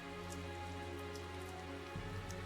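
Rain falls steadily in the video game Tales of Zestiria, a continuous soft hiss with no voices over it.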